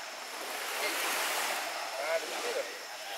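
Steady wash of waves on a beach at night at Batu Gulung Beach, Bulukumba, Sulawesi, a continuous broad hiss of surf with slight swells, no voices.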